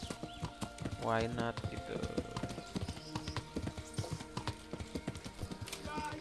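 Horse hooves clip-clop at a rapid galloping rhythm in the medieval video game Kingdom Come: Deliverance, close and steady throughout, with a whinny early on and a person talking over the hoofbeats and game music.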